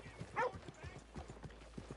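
Horse hooves clip-clopping along a dirt street in the Red Dead Redemption 2 video game, a steady close rhythm of hoof beats with a brief whinny early on and talk in the background.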